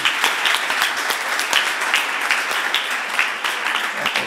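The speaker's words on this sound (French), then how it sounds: "on peut l'applaudir." A conference audience in a hall applauds for a recruitment-challenge finalist: a dense, steady wash of many hands clapping close by, holding at an even level for the full stretch with no voices over it.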